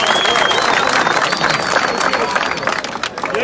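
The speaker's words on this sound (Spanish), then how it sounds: "¡Aplausos!" A crowd in a Venezuelan prison yard at La Victoria applauds and cheers loudly and steadily for a new prison colonel, a dense close wash of clapping mixed with shouting and babble that tapers slightly at the end.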